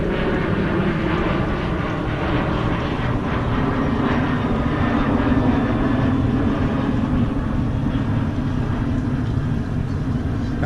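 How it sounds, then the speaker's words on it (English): Airplane passing overhead near Harbor Island marina in San Diego, a loud steady engine roar with a broad rushing drone that holds for about ten seconds without fading, with no talking. "Have to stop talking when the airplanes go over."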